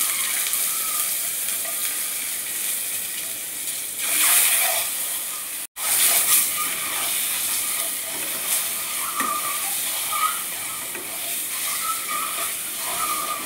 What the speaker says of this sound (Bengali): একটু লবণ আর একটু হলুদ দিয়ে আমি ডিমগুলোকে ভালোভাবে ভেজে নেব।